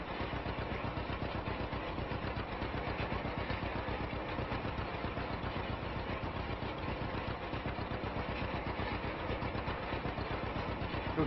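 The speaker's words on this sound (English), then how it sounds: "Good thing about a tricycle tractor that it's got good turning circle" A simulated John Deere A tricycle tractor runs steadily in Farming Simulator 25, its engine holding an even, low chugging drone at a constant pitch and volume from start to finish.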